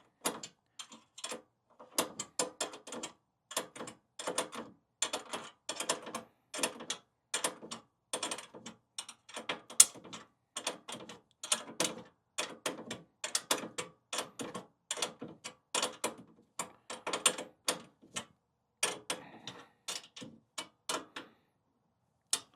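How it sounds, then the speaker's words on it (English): An open-end wrench tightens bolts on a tailgate table fitted to a 2018-or-later Jeep Wrangler JL. Rapid, regular metallic clicks and ratcheting ticks repeat close up throughout, with no voices. "So I use the open end of the wrench just because there's not a lot of area here at the table for the closed end to fit."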